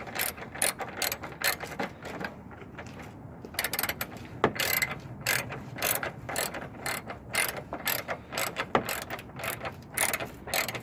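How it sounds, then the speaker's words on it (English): Wrench ratcheting as it tightens headlight bolts on a 1995 Geo Prizm, with rapid close clicking runs repeating in bursts, loud and alone. "We're gonna go back with our wrench. Turn it. And tighten these."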